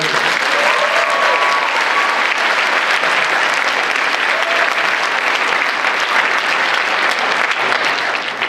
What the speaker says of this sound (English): Let's give a big round of applause to George.